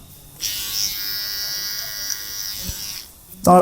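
An electric hair clipper hums steadily while cutting long hair at a barber shop, a close, even buzz lasting about three seconds before cutting out, with a brief clatter at the end.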